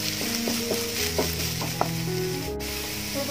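Finely chopped large onion sautés in a pan with a steady close sizzle, joined by a few light scrapes and taps from a stirring spoon.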